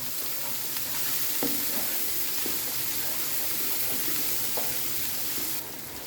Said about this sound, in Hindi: साथ ही हम चॉप्ड हुआ है एक मीडियम साइज़ का प्याज शामिल कर देंगे और प्याज को भी अच्छी तरह से ब्राउन करेंगे।